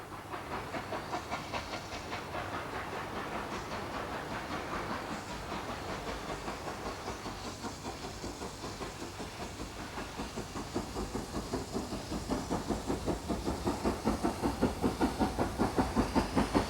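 LMS Black Five steam locomotive number 5025 of the Strathspey Railway working through snow in Scotland, a steady rhythmic chuffing with hiss that grows louder and sharper toward the end as it draws nearer.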